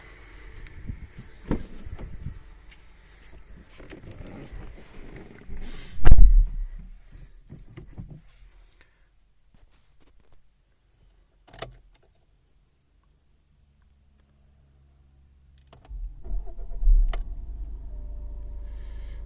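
Volkswagen Golf 7 1.6 TDI diesel with a five-speed manual and 233,000 km starts after a stretch of faint clicks and near-silence, then settles into a low, steady idle rumble.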